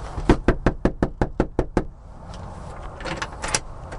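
Rapid series of about nine sharp knocks on a house door, close and loud, followed by quieter rustling and footsteps outside.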